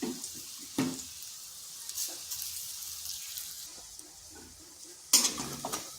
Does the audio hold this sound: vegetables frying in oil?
yes